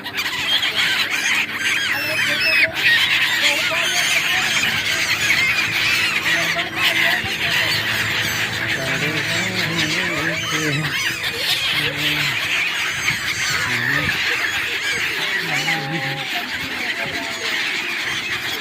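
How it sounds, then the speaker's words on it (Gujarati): A dense, noisy chorus of thousands of seagulls squawking and chirping nonstop at Gomti Ghat, with faint human voices underneath. "કેટલા બધા પક્ષી આવ્યા છે."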